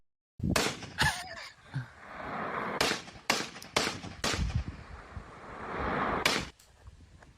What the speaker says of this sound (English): This guy's shooting a gun, bro.